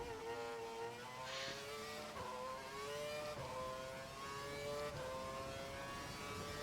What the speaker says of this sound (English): I'm sliding under braking. It's wet weather conditions now.